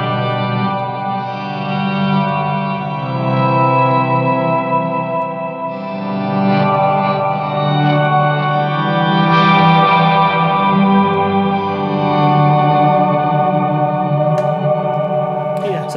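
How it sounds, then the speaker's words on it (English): Slow volume swells on an electric guitar through a Blackstar ID Core Stereo 100 amp, with heavy delay, a huge reverb and an octave effect, layered sustained tones blooming and overlapping in a thick, continuous wash. "I'll just do some volume swells with a good amount of delay, a really big reverb and the octave on both"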